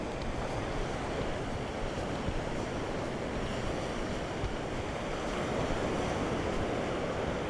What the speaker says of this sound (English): All right, so here is the beach area.